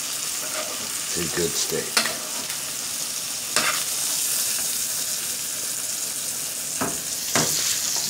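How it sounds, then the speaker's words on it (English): A ribeye steak sizzles steadily in a pan as it is basted, with a constant loud frying hiss broken by a few sharp spattering pops and clinks, and only a brief murmur of speech. "I'm gonna want to baste it."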